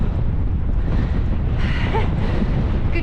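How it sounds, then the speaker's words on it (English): Strong wind of about 45 mph buffets the microphone on a Lake District fell walk near High Pike, a continuous loud low rumble with gusting surges and no talk. "Oh, the wind is right in my face."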